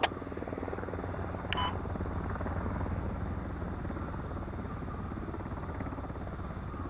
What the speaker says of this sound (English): Chopper is closing in.